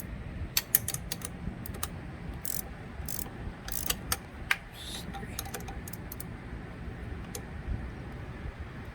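Bolts on a Hawk 250 motorcycle are tightened with a narrow wrench in a workshop, giving sparse, sharp metallic clicks and short ratcheting bursts, near and fairly quiet, with gaps between them.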